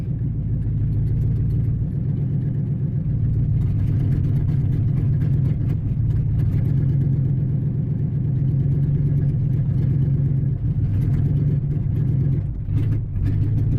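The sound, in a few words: car engine sputtering, not taking throttle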